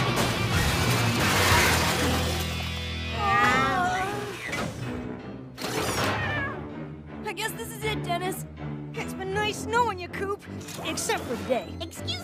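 A cartoon cat meows and caterwauls amid lively animated dialogue, its wavering cries rising repeatedly over the talk alongside background music and a few clattering effects.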